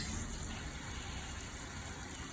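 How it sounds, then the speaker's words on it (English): Continuous rushing water spraying and splashing against a Honda CBR 125 motorcycle being rinsed down, steady and unbroken throughout. "I'm just going to give the bike a good old rinse down"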